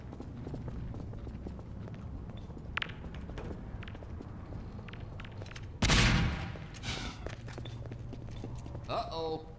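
Automated turrets in Half-Life 2 let off a sudden loud burst of rapid gunfire partway through, over a busy game backdrop of clicks and footstep-like taps.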